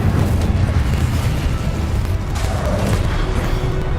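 A fire spell is cast in Hogwarts Legacy, a loud, sustained blazing roar with low rumbling bursts that fills the whole moment without pause.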